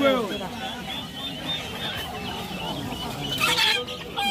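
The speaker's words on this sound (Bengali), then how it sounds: "কি চীনা হাঁস না? চীনা হাঁস।" Chinese ducks and chickens at a busy poultry market give overlapping clucks and squawks, with a sharper burst of calls near the end, while people talk over the birds.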